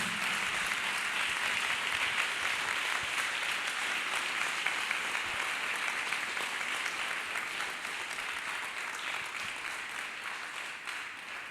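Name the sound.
church congregation clapping hands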